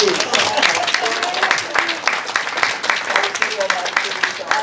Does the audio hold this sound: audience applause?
yes